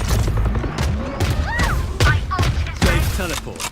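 Missiles launch and explode in a video game in a rapid, loud volley of booms and bursts stacked close together, with a voice talking over them.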